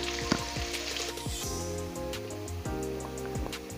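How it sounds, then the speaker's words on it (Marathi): A large sliced onion sautéing in hot oil after cumin and mustard seeds have spluttered, a dense steady sizzle with light scraping and stirring close by. "तो आता आपण लालसर होतोपर्यंत परतून घेणार आहोत"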